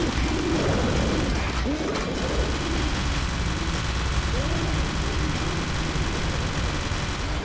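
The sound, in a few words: bird in VR video game Drunk Or Dead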